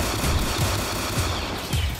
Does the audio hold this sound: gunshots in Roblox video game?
yes